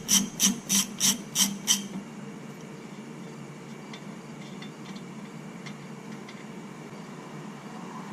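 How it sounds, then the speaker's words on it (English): A 27mm socket on a ratchet loosens the front axle fill plug of a Kubota Grand L tractor: six quick, close rasping ratchet strokes in a steady rhythm, then faint scattered clicks over a low background hum. "Now we need to remove the fill plug. I'm using the 27mm socket."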